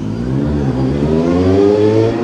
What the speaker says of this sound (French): c'est passé à moto